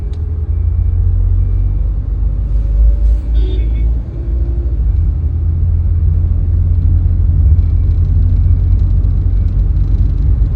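A car with an automatic transmission pulls away and drives on, heard from inside as a steady, loud low engine and road rumble that holds for the whole stretch.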